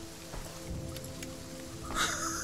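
Steady rain falls in the horror video game Visage, a soft continuous hiss with a few scattered drops. A brighter, louder wash of rain swells near the end.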